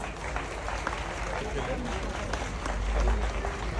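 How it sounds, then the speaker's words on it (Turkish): Strong applause from a crowd at a municipal ceremony celebrating Balkan culture in Buca: continuous, dense clapping throughout, swelling slightly toward the end, with voices mixed in underneath. "kuvvetli alkışlar efendim"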